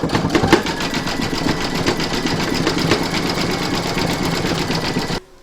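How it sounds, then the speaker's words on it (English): An embroidery machine zigzag-stitches around the edge of a star and tree top in the hoop, a loud, fast, even mechanical chatter that runs steadily for about five seconds and then stops abruptly. "Pop your hoop back into your machine and stitch round number 5"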